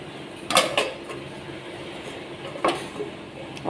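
A lid goes onto a cooking pot of pulao with chicken in a home kitchen, giving a couple of near metallic clinks about a second apart, then a fainter clatter, over a low background hum.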